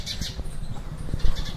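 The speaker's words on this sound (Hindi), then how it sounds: "क्या हो गया चिड़िया, इतना क्यों चिल्ला रही हो?" A small bird squawks loudly and agitatedly at close range in short, repeated harsh bursts, with a cat nearby.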